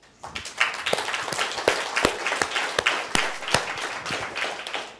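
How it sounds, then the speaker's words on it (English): An audience applauds students, a steady wash of many hands with a few louder, sharper individual claps standing out, building quickly and holding for several seconds. "I think they maybe deserve some applause from the audience."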